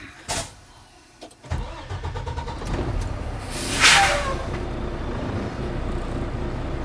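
A semi truck tractor, disconnected from its trailer, is started: a few clicks, then the starter cranks briefly before the engine catches into a loud, steady idle rumble up close, with no talk.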